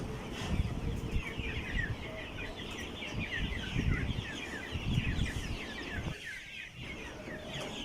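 A busy flock of coloured chickens sick with colds clucks and murmurs steadily in a shed close by, overlapping calls, with a brief quieter dip near the end.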